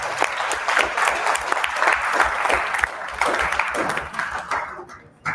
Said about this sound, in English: So big applause for